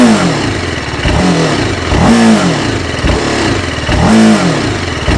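A TVS Apache RR 310 BS6 motorcycle engine idles loudly up close, then the throttle is blipped in quick repeated revs that rise and fall, about three sharp surges within a few seconds.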